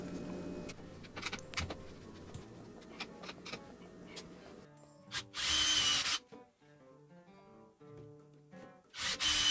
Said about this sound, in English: I used power tools on a loaded spring trap.